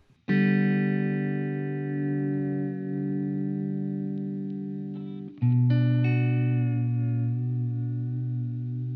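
Sustained electric guitar chords ringing out through a slow, wobbling tape-style modulation effect from a Cooper FX Generation Loss V2 pedal, with a second strummed chord partway through, loud and without talking.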